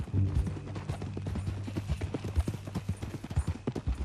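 Hooves clip-clop in a quick, uneven rhythm as a horse walks along in the Red Dead Redemption 2 video game, close and clear over a low background rumble.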